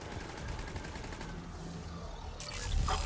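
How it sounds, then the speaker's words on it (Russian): Rapid bursts of gunfire in Mass Effect 3, a fusillade of rattling shots that stops partway and then breaks out again louder near the end, heard alone without speech. "Кто по мне стреляет?"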